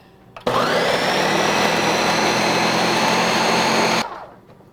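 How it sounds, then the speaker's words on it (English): A blender switches on abruptly and whirs at a steady, loud pitch on its low setting for several seconds, then cuts off. Nobody speaks. "Yeah, you can use a regular blender. Yep. And we're going to start on low."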